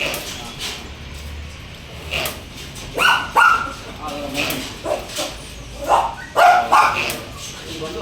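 Several dogs at a dog breeding farm, including a beagle, bark in short irregular bursts, some loud and close, with quieter yips between, over a steady background murmur.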